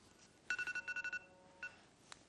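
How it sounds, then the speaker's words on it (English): Short telephone ring: a quick burst of about seven rapid electronic beeps, then one more brief beep, fairly faint and alone with no talk. "The phone just started ringing and you can show it."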